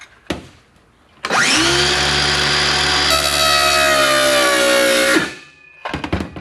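A skill saw plunge-cuts into the seat of a Lowe 1648 aluminum jon boat, the blade whining up loudly after a short spin-up, cutting steadily for about four seconds, then winding down, with scattered clatter around it.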